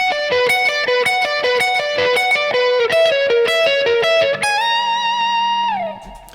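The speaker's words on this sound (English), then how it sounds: "you have two guitars. And this is what it sounds like." Two distorted electric guitars play a bright melodic line in harmony from a song, close and loud, ending on a held bent note that fades out.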